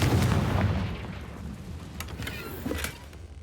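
A Confringo blasting spell explodes in the Hogwarts Legacy game, with a booming burst at the start that fades out, followed by a few sharp crackling pops.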